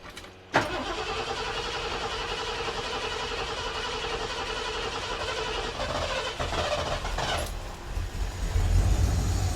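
A flooded 5.0 V8 in an NC Ford Fairlane cranks with a long, even, churning whir that stumbles and surges near the end as the engine tries to catch, heard close with no talking.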